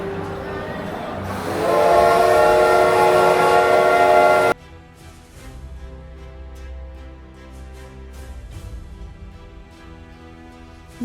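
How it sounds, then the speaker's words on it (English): A loud, sustained steam locomotive whistle blares for a few seconds at a studio-tour station platform, then cuts off abruptly, leaving a lower rumbling hiss and mechanical chugging. "heard the honking of a steam train"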